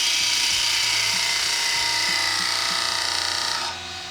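A Les Thorn 10mm skew chisel cuts a wooden chalice spinning on a lathe, a continuous bright scraping hiss with small rhythmic knocks underneath, stopping abruptly near the end.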